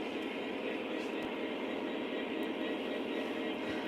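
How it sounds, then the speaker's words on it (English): An O gauge model train runs around the outer loop of a home layout, a steady continuous rumble and whir of wheels on track with faint clicks, unbroken throughout. "So now that we've run the train on the outer loop"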